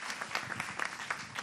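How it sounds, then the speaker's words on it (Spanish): An audience at a panel discussion on migration and the labour market applauds for about a second and a half, a dense, moderately loud patter of many hands clapping. "Un aplauso para Isabel de Benito."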